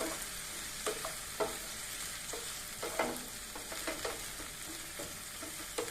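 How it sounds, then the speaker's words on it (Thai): Shrimp stir-fried in a pan gives a soft, steady sizzle broken by a spatula's scrapes and taps at an uneven pace, fairly faint and close. "เราก็ใส่กุ้งล่ะแล้วเราก็ผัดนิดนึง"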